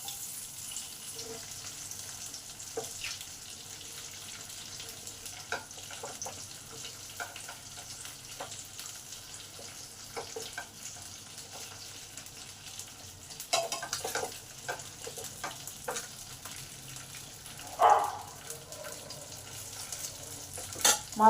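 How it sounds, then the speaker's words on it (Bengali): Hilsa fish pieces fry in oil over low to medium heat with a steady soft sizzle, a few clinks and scrapes as the pieces are turned, louder toward the end. "মাছটা লো টু মিডিয়ামে ভাজবো, বেশি হাই হিটে ভাজা যাবে না।"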